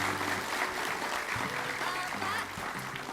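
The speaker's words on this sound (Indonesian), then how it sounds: "Kasih tepuk tangan lagi sekali lagi buat Nina." A TV studio audience applauds a female guest on an Indonesian talk show, steady clapping filling the whole stretch while a voice and some tonal sound come and go underneath.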